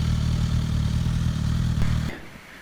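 Four-cylinder engine of a Suzuki Katana motorcycle running with a dense, steady low drone, close and loud, before dropping away abruptly near the end.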